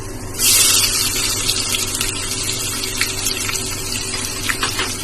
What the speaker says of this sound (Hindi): अब इसमें आधा चम्मच हम जीरा डालेंगे, थोड़ी सी प्याज डालेंगे भगाने के लिए